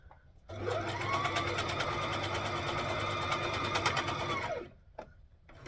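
Sewing machine stitching a child's rashie, one continuous close whirring run of about four seconds with a steady hum and fast needle chatter, stopping abruptly before a couple of soft clicks.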